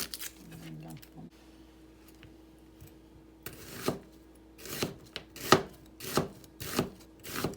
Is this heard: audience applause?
no